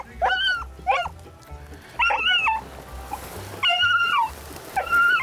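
Hunting dogs yipping and baying while chasing a rabbit outdoors, a series of high, wavering yelps in bursts over a low rhythmic background thumping.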